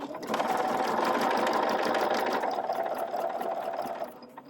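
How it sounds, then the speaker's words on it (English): A sewing machine stitching heart quilt block pieces, a steady close rapid mechanical whirring and clatter that runs for several seconds before slowing and stopping. "so I know to start sewing at this top corner"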